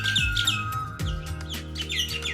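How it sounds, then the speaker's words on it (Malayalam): Birds call in the woods of Pathiramanal island, several quick bright chirps and tweets repeating close by over a quiet background. "ധാരാളം പക്ഷികളുടെയൊക്കെ സൗണ്ട് കേൾക്കുന്നുണ്ടെങ്കിലും അവയെ കണ്ടെത്താൻ നല്ല ബുദ്ധിമുട്ടാണ്"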